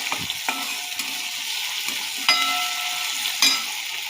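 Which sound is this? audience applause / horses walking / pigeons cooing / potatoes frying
potatoes frying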